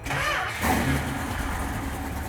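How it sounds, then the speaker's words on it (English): Carbureted Hemi Road Runner engine cranking over with no gas, a loud starter churn that catches into a rough, steady running rumble close by. "let's just try cranking it and seeing if it starts with no gas at all"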